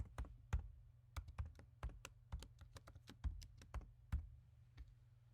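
A password is typed on a computer keyboard: soft, close key clicks in quick irregular bursts with brief pauses, quiet, with no speech.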